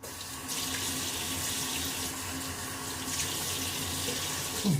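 Hot water runs steadily from a bathroom tap into a sink. The splashing stream is close and continuous for the whole stretch.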